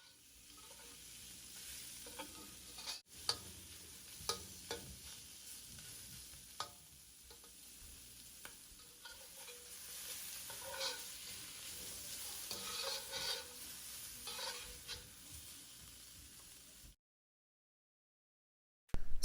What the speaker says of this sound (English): So I've added the shrimp, seasoned with some salt and pepper, and then fry for just 3 minutes.